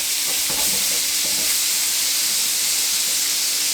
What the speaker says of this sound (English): I'm also going to add a little bit more olive oil into the pan just so we have a nice layer of fat in there. And then we're going to throw our onions right on in.